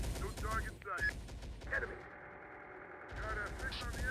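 Rapid gunfire from a sniper position in the Terminator: Dark Fate Defiance video game, sharp bursts and shots in a busy battle mix with someone speaking over parts of it.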